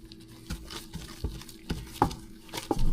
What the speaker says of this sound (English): I'm just gonna combine this, and I'm gonna just knead it a little bit